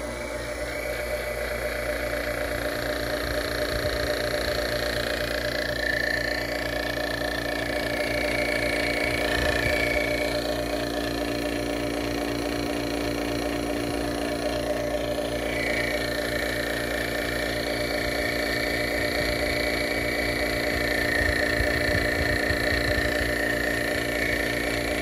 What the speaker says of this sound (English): I'm gonna turn on the vacuum pump.